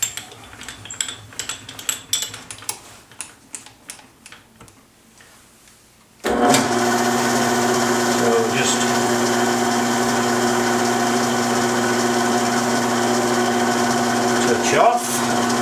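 A machine cuts 100 thou off a brake lever part for a BM 250 trials motorcycle: light clicks and taps first, then the motor starts abruptly into a loud, steady whirring hum that runs to the end.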